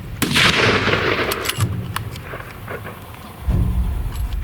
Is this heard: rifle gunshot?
yes